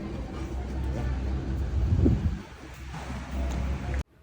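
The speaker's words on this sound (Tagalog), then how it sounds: "Medyo mahangin ngayon." Steady wind rumbles and buffets the microphone outdoors at Caticlan Airport, a continuous low roar that swells slightly midway, then cuts off abruptly near the end.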